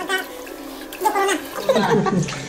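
Water runs and splashes steadily over hair as hair dye is rinsed out, with a voice talking over the wash.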